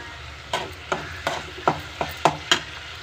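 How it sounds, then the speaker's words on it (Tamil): Sambar stirred in a pan gives about eight rhythmic scraping knocks of a spoon against metal, evenly spaced and close, over a faint background sizzle, with no talking. "இப்போ சாம்பாரை கொஞ்சம் கொஞ்சமாக விட்டு கிளறிட்டு இருக்கேன்"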